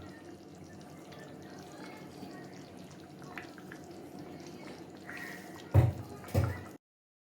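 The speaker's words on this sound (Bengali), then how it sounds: "এখন আমাদের মাংসে আমরা আলুটা যেটা ভেজে রেখেছিলাম সেটা ঢেলে দেবো।" Fried potatoes tipped into mutton that has simmered on low to medium flame, landing as two short, splashy plops near the end over a steady low kitchen hiss.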